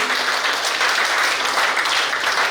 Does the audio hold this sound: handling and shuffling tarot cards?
no